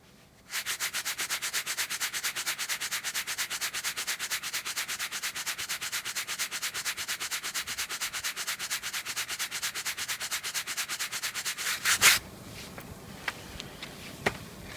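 Rapid, even rubbing strokes abrade Cordura fabric in a friction torture test, a dense scratchy rhythm held for about eleven seconds that stops suddenly, followed by a few faint knocks.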